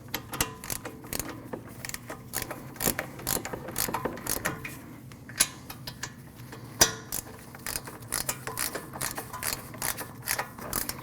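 A ratchet clicks rapidly in bursts as it runs in the wheel bearing and hub assembly bolts on a 2014-2023 Jeep Cherokee, with a few sharper metallic knocks between, close and fairly loud with no talking.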